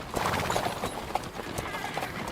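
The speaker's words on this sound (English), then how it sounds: "That's a nice horse." Horse hooves clip-clop steadily at close range in the video game Kingdom Come: Deliverance 2, a busy rhythmic stream of hoof strikes with a brief whinny-like tone mixed in.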